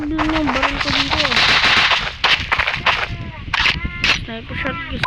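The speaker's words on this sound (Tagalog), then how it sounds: "Sniper shot, sniper tayo." Sharp sniper rifle shots and other gunfire crack through a Special Force 2 shooting game, loud and close, mixed with game sounds while a player talks excitedly over them.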